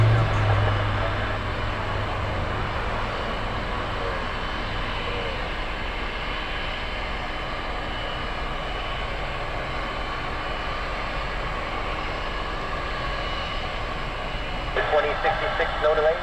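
A jet airliner taking off at Orlando International Airport on a stormy day, a steady broad engine roar holding for the whole stretch, moderately loud, with air traffic control radio chatter faintly underneath.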